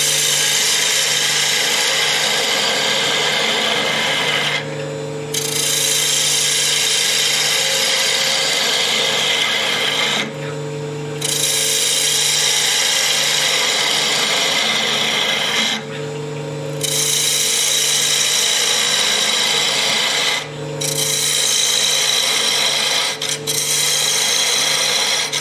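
Spindle gouge hollowing end grain on a wood lathe, a loud steady hiss of cutting over the motor's hum, broken by four short pauses as the tool lifts away before each new pass.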